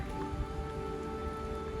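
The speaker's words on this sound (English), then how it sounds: "It's been raining all day" Steady rain falling all day on the way to Devil's Pulpit in the Scottish Highlands, heard from inside a camper van as a soft, continuous patter with a faint hum beneath it.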